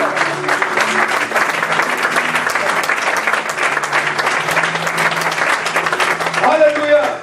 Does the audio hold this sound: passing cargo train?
no